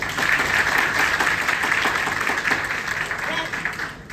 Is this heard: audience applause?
yes